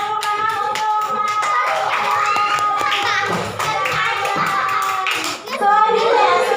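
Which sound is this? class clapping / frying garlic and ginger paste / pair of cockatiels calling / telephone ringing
class clapping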